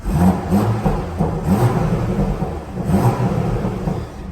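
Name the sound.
BMW M340i inline-6 turbocharged petrol engine burble, sport mode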